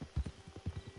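Horse hooves clip-clop in the video game Red Dead Online, a quick run of soft, low thuds in an uneven trotting rhythm, fairly faint and close, with no voices.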